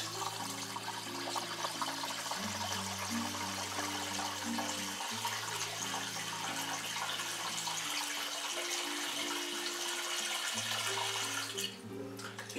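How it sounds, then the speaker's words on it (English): Water pours steadily into a five-gallon bucket, a continuous splashing rush whose tone slowly shifts as it fills and reaches an inner bucket. "you will notice a change in the sound of the water there"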